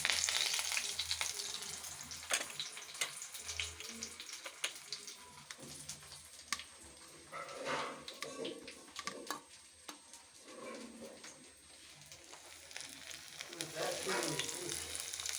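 Crispy breaded potato snacks frying in oil, a dense crackling sizzle with bursts of popping and occasional clinks of a utensil, close and continuous throughout.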